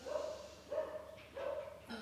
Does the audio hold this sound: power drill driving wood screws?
no